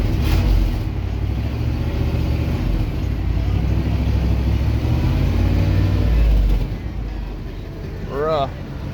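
A 1997 Ford F250 HD 4x4 truck engine runs close by with a loud, steady low rumble that eases slightly near the end, where a short voice sound briefly cuts in.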